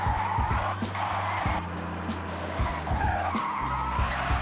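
Tires squealing as a Nissan Skyline drifts in Forza Horizon, long sustained screeches over a steady engine drone, with brief shifts in pitch as the slide changes, loud and close.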